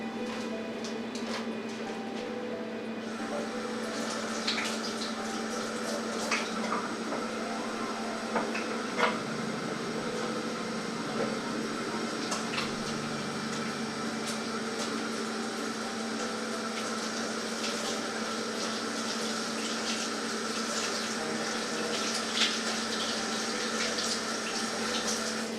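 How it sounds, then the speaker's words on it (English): Running tap water flows steadily in a kitchen sink as hands are washed after handling raw poultry, a continuous moderate splash with faint clinks and small bumps throughout. "Now let me wash my hands really quick."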